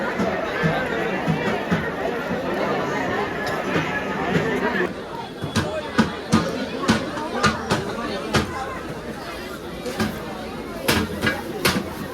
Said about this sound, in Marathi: सगळी गर्दीच गर्दी आहे